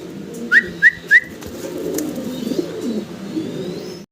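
A black pair of top-quality fancy pigeons gives three short, sharp calls in quick succession early on, over a steady low background murmur.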